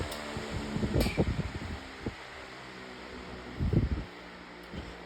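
Pedestal fan running on its low setting, a soft steady airy whoosh with faint rustling and a few brief louder bumps, otherwise quiet and continuous.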